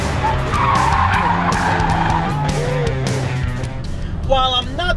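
The tires of a 2019 Ford Edge ST squeal loudly as it corners hard, a sustained skidding screech over engine noise, and a voice is heard speaking over it.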